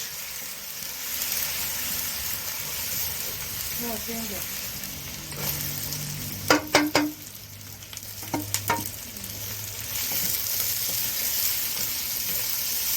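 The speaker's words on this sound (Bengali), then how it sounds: "এবার এটা ভাজতে থাকবো" Onion and garlic fry in a pan, with bay leaf added earlier, making a continuous close sizzle and hiss, broken midway by a few sharp clinks of a utensil against the pan.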